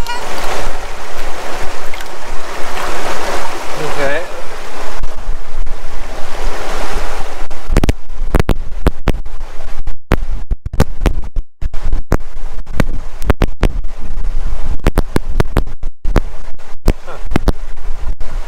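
Water sloshes in a pan during gold panning with a Fisher Gold Bug 2 metal detector outing, splashing first then breaking into rough, gusty rustles and wind buffeting close to the microphone.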